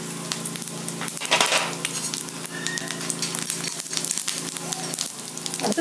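Black pepper and cumin seeds crackle and sizzle in hot oil, a close, busy frying hiss with small popping bursts and light stirring, no voices.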